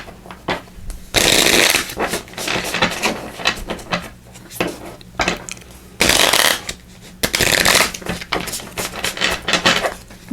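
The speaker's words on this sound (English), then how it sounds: "I'm just going to pull some cards for clarification." Tarot cards shuffled by hand, a loud continuous riffling and flapping with rhythmic bursts and brief pauses, close up and without talk.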